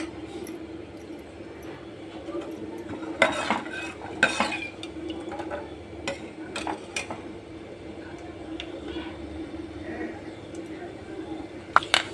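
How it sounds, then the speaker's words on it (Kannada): Peanuts and curry leaves fry in oil for a tempering, with a low steady sizzle under repeated spoon clinks and scrapes against the pan, and a voice talking throughout. "ಕಡಲೆ ಬೀಜ ಕರ್ಬೇ ಸೊಪ್ಪು ಹಾಕೋಣ ಕಡಲೆ ಬೀಜ ಸ್ವಲ್ಪ ಫ್ರೈ ಆಗಲಿ"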